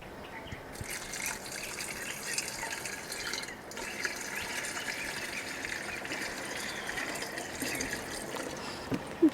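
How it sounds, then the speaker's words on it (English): A gallon of water is poured into a container to mix a plant solution for a dragon fruit trellis, giving a steady, soft trickling splash that runs continuously for several seconds without talking. "1 gallon of water."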